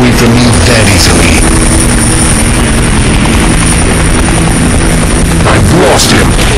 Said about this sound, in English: Chopper go.